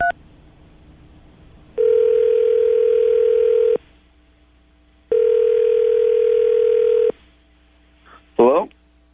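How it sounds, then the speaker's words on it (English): An outgoing telephone call rings back twice, each ring a steady two-second tone separated by a short pause, before a voice briefly answers at the very end. "I'm going to call him right now, get him on the phone"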